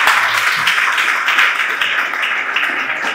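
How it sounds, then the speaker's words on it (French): An audience at a youth employability talk breaks into dense, sustained applause, many hands clapping loudly and evenly throughout. "Oh, ça s'applaudit."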